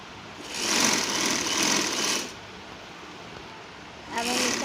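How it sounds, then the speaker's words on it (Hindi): A sewing machine stitching the sleeve of a kurti runs in a steady whirring burst for about two seconds, pauses, then starts again briefly, close by. "बाजू सिलाई लगा रहे हैं"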